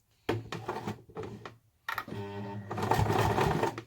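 Sewing machine stitching a fabric beauty pouch, running in several short bursts and then a longer steady run with a rapid mechanical whir, close and fairly loud.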